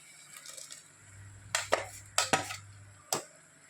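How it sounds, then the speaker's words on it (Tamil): A metal spoon scrapes and clanks against a pan while ground paste is stirred in, giving several distinct knocks after a quiet stretch, close and loud against faint background noise. "அதை போட்டு கொஞ்சம் கிளறி கொடுக்கணும்."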